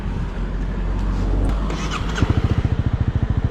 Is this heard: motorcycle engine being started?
yes